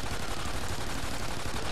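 Gunfire in the video game Call of Duty: Ghosts Extinction, a dense, continuous roar of shots packed together with no clear gaps, loud and close, like sustained automatic fire.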